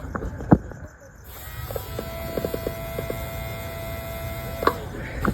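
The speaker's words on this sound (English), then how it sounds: "here's where my fuel pump goes. And as soon as I do it, you'll hear it" A truck's electric fuel pump runs after its wires are connected, a thin steady whine and hum rising after a sharp connection click, with scattered small clicks and handling noises nearby.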